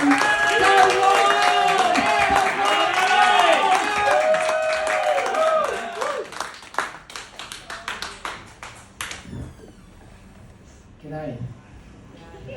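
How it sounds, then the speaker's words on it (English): A comedy club audience in Footscray claps, starting as a dense burst of applause that thins into scattered, uneven claps before fading out near the end. "starting with a small clap"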